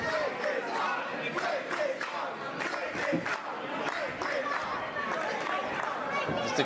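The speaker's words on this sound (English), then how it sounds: "The crowd chanting for him to break his arm." A wrestling crowd chants loudly and continuously, rhythmic massed voices filling the arena during a match, close and dense with no single speaker.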